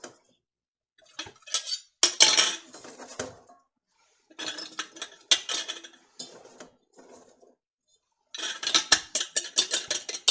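Fresh chopped celery is added to a row of glass canning jars in short bursts of light clinks, taps and rattles against the glass, with quiet gaps between handfuls and no talking.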